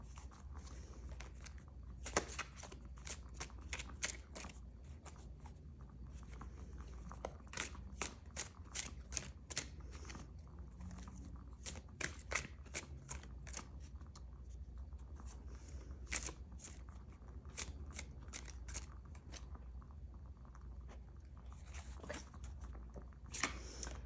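Tarot cards being shuffled and pulled from a deck, a steady run of soft, close riffling and flicking sounds with bursts of crisp snaps, no speech.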